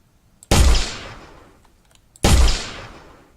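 Two loud, sharp gunshot blasts from a sword gun in a video game prototype, each with a long decaying boom, spaced under two seconds apart with quiet between.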